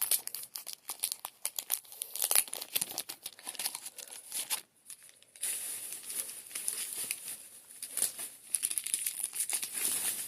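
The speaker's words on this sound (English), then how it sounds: "We just want to open our ribbon." A ribbon package for wreath making is torn open and crinkled, with close, busy plastic crackling and ripping that pauses briefly midway, then resumes with more rustling.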